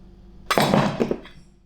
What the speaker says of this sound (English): We normally use a rubber mallet because we don't want to damage the gas lift.